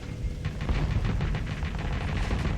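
Spaceship weapons fire in the space combat game Starsector: a dense, continuous barrage of rapid impacts and shots, loud and unbroken throughout, with no voices.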